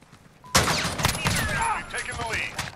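Rapid close-range bursts from an ASH-12.7 rifle fired at bots in Call of Duty Modern Warfare ring out loud and sharp after a brief quiet start, with sustained crackling shots and echoing impacts.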